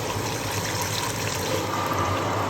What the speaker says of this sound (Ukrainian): Ну і відповідно вода тече.